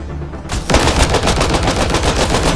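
A turret in the Mass Effect Andromeda video game fires loud, rapid automatic bursts that start abruptly after a short quiet moment and continue as a steady rattling stream.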